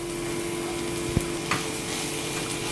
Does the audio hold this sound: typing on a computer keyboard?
no